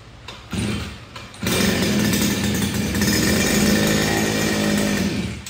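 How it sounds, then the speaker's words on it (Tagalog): A Kawasaki TD40 heavy-duty grass cutter engine catches after a brief sputter, then roars steadily and loudly at high revs, close by, with no talk. "Heavy duty na grass cutter, Kawasaki TD40"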